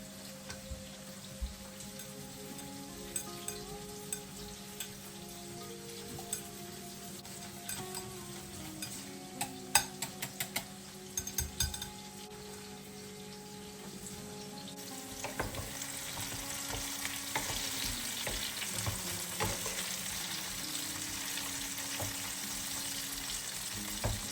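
A batter of cream or yogurt with salt and a spoonful of flour being stirred in a pan, with steady sizzling and frying beneath repeated scraping strokes of the spoon, close and continuous with no talk.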